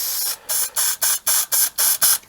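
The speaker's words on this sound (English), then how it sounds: "So first of all, you spray a bit of" Adhesive spray from an aerosol can, applied during a speaker build, comes as about eight short hissing bursts in a quick regular rhythm, close and fairly loud, with no talking.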